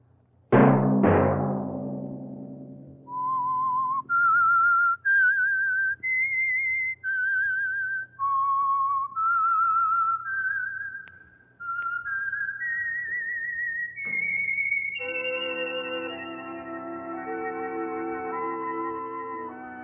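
A clear whistled melody of distinct sustained notes rising and falling, played alone, ending in a longer held phrase with accompaniment, the theme of an old radio drama.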